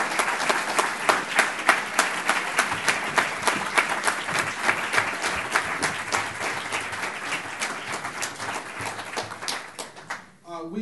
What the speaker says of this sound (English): let's give President Monteiro another round of applause